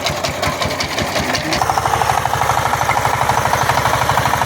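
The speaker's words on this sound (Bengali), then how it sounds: "পাওয়ার টিলারটা কিন্তু এখন আবার স্টার্ট দেওয়া হচ্ছে" A power tiller's engine coughs and catches after a few uneven cranking bursts, then settles into a loud, steady, rapid chugging idle close by, out in a village field.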